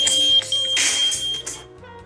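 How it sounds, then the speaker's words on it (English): A kitchen timer beeping during cooking: a steady high electronic tone in short repeated pulses, loud and close over clattering kitchen noise. "That's our timer."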